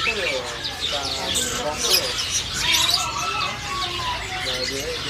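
Many caged birds, including blue-crowned hanging parrots, chirp and twitter busily inside a bird shop kiosk, with occasional wing flutters, while a person talks over the chatter.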